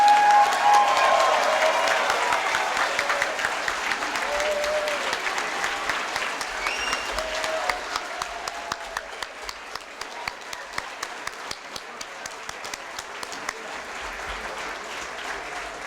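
An audience at a National Honor Society induction ceremony applauding its 86 new members: loud, dense clapping from a large crowd that gradually thins out into scattered individual claps toward the end.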